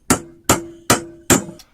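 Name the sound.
hammer banging in nails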